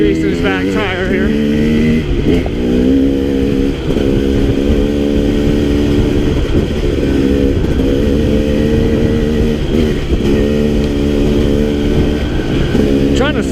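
A KTM 300XC dirt bike rides a single track trail behind another 300XC, its engine loud and close, rising and falling through repeated revs and gear changes with a buzzing, harmonic drone.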